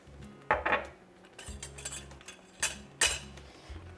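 A spoon scrapes and clinks against a bowl while paneer is mixed with salt, chili powder, garam masala, ground coriander and cumin, giving several close, irregular bursts of metal-on-dish clatter.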